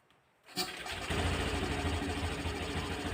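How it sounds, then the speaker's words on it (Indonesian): A 2021 Honda Scoopy scooter's engine cranks after a brief quiet moment, catches, and settles into a steady, close idle. "Sekarang kita coba nyalakan motornya."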